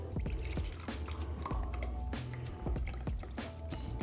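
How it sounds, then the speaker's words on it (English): Melted 4627 paraffin wax poured into candle containers, giving a soft, wet trickle with dripping and light clinks, steady and close over a low background hum, with no voices. "And we're gonna go ahead and start pouring these."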